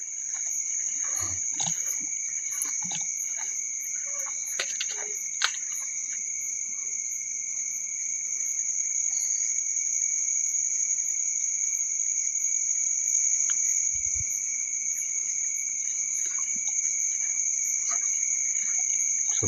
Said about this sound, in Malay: Sampai bunyi jengkrik lah.